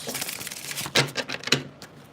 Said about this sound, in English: That's a very fast shuffle.